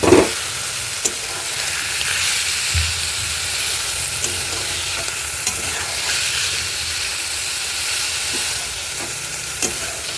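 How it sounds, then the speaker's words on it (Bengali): Fish sizzling in hot oil in a wok, a steady close frying hiss with occasional soft clicks and pops running throughout, no voices. "মাছগুলি ভাজি হয়ে আসছে"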